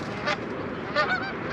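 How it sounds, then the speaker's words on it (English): A flock of geese honks loudly and repeatedly at a small woodland lake in fall, the calls overlapping close by in a continuous chorus. "A bunch of birds."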